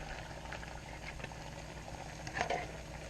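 Chilli crab sauce hits a hot pan and bubbles with a steady low sizzle and patter, then a brief louder spatter near the end, close and without voices.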